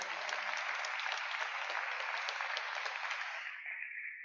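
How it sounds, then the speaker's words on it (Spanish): Sustained applause from an audience fills a large church hall, steady clapping for about three and a half seconds before tapering off. "Demos un aplauso, por favor,"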